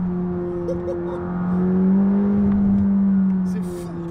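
A McLaren 600LT with a carbon monocoque surges forward, its engine note climbing and swelling loudly from inside the cabin over about four seconds before easing slightly, while someone talks over it.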